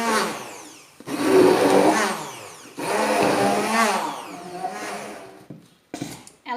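An electric mixer strains through thick, stiff gluten-free brownie batter, its motor whirring in three long bursts with short stops between, close and loud.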